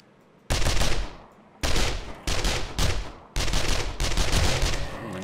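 Rapid automatic gunfire in the survival game 7 Days to Die, loud close bursts broken by short pauses, each burst lasting around a second, with no talk over it.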